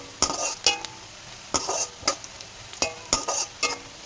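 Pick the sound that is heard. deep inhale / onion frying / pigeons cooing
onion frying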